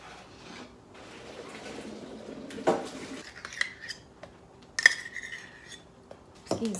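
A metal fork stirring and clinking through drained noodles in a pot for chicken noodle soup, soft scraping with a few sharp metallic taps, close and fairly quiet.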